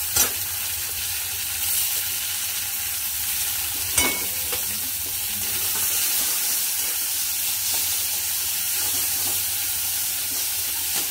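Chopped tomatoes frying in a pan on a gas stove for a cashew chicken masala: a steady, close sizzling hiss that runs throughout, with a sharp utensil clink partway through and no talking.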